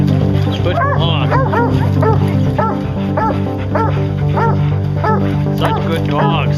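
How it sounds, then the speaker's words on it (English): Hunting hounds bark and bay in repeated, loud, close yelps and howls, roughly one every half second, while someone shouts encouragement over them. "Get them, you dogs."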